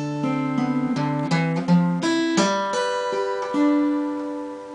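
Guitar strings ring out in a fingered chord pattern, the bass note struck first and then single notes plucked one after another, each sustaining clearly and close with no voice.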